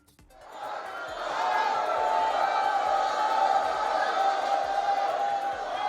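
A crowd cheers at the Thrissur Pooram flag hoisting in Thrissur, swelling within the first second into a loud, sustained roar of many voices that stays dense to the end.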